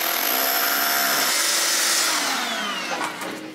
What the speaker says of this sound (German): Wir bohren da jetzt ein Loch rein